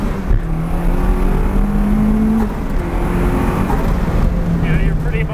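SR20-powered Datsun 510 engine droning and revving steadily from inside the car, loud and constant with a rising tone, people talking over it.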